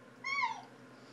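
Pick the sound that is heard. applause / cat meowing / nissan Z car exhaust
cat meowing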